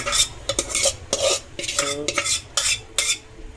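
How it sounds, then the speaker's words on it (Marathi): A spoon stirs and scrapes through onion gravy with grated coconut roasting in a pan, making brisk, close, repeated scraping strokes with no voices. "ती पण थोडी भाजून घेणार आहे मस्तपैकी."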